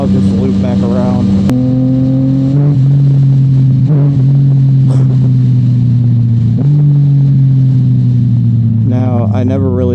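Yamaha FZ09 motorcycle engine revving hard during a wheelie, a loud close drone that climbs in pitch and shifts, with wind rush over it.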